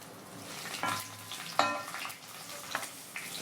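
Cumin seeds hiss and crackle in hot oil in a pan, a steady soft sizzle broken by a few sharper pops and stirring clinks over a few seconds.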